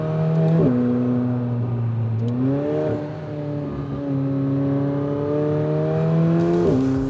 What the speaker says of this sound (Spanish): el sonido del motor V8